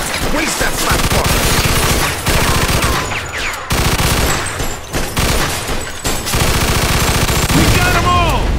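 Sustained heavy gunfire in the Mafia II shootout, dense rapid bursts of shots close and loud almost without pause, with voices shouting amid the barrage.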